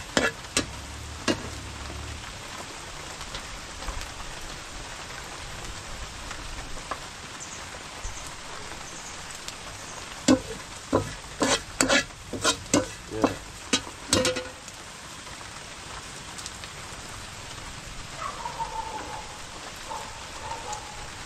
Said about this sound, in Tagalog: Tapos saka po lalagay niyo yung sibuyas at bawang. Papabango-bangohin lang po na natin.